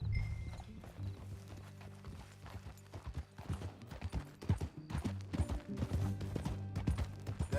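Horse hooves clip-clopping in the western video game Red Dead Redemption 2, a steady rhythmic trot close by, with low background music underneath.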